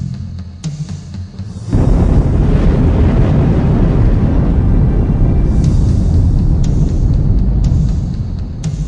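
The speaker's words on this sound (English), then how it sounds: "Magnificent mountains explode as a result of the volcanic pressure beneath them." A volcano erupting as its mountain explodes from pressure below, heard as a sudden deep roaring rumble that starts after a quieter wind-like opening and stays loud and sustained, with no speech.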